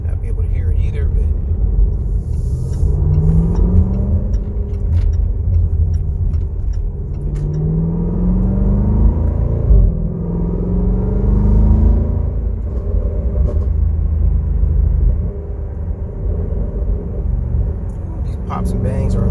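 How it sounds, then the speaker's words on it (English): A car with a loud exhaust, a supercharger and a cold-air intake kit drives along, giving a heavy, continuous low rumble with several rising engine sweeps as it accelerates through the gears, close and loud throughout. "my exhaust is so loud that I might not be able to hear it either"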